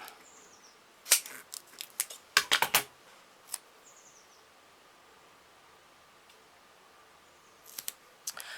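Scissors cutting a 3D foam sheet for a handmade greeting card, a few sharp close snips in short bursts separated by quiet pauses.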